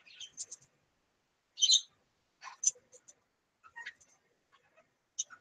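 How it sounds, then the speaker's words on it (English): Bird calls sound in short, sharp bursts of chirps and squeaks with gaps of quiet between them, close and fairly faint. "That was a new sound out of my bird."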